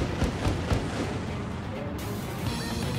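Missile blast in the combat flight game Ace Combat 7, a dense low rumbling burst with sharp thuds over steady jet engine roar, no talking.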